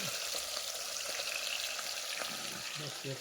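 Fish coated with turmeric and salt sizzles in hot oil, giving a steady, close crackle that runs without a break, with faint scattered pops.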